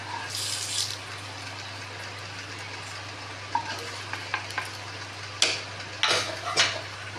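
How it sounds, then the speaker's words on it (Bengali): Onion and garlic frying in oil until crisp, sizzling quietly while a utensil scrapes and clatters against the pan in bursts toward the end. "এই তেলে পেঁয়াজ রসুনটাও আমি ভেজে নেব। মচমচে করে ভাজতে হবে"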